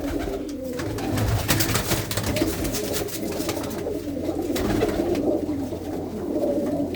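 Pigeons at a Punjabi loft, including a fine-looking bird flown at Dussehra, coo steadily and fairly close over a dense, busy background murmur, with no speech.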